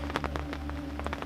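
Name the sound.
rain falling at a carp fishing lake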